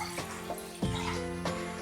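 Vegetable broth poured from a container into a mixing bowl of dry ingredients, a close, steady liquid splash and trickle with a few glugging surges, no talking.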